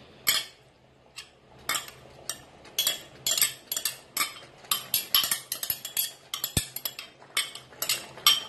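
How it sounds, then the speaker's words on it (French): Minced steak goes into a pan, with a series of sharp clinks and scrapes of a utensil against the cookware, irregular and close, growing busier toward the end with no voices. "À présent, nous allons rajouter le steak"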